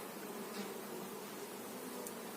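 Honeybees humming around an opened Dadant hive during a frame inspection, a faint, steady drone of many insects with a couple of brief closer passes and no speech.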